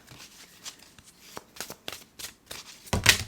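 Tarot and oracle cards are shuffled by hand in quick, soft riffling bursts, close and fairly quiet, ending in a sharper slap of cards near the end.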